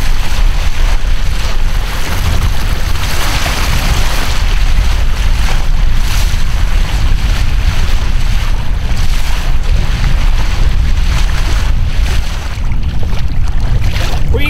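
A fishing boat out after king mackerel runs at full throttle: a steady roaring engine and rushing water, with heavy wind buffeting the microphone throughout and no talking.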